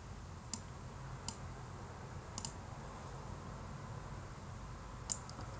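Buttons pressed on a graphing calculator, a handful of faint, sharp clicks spaced a second or so apart over a low background hiss, with no talking.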